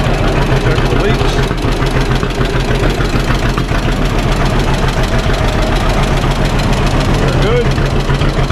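A cold engine idles steadily just after starting in a garage shop, a continuous low rumbling drone with a faint knock, loud and close for the whole stretch.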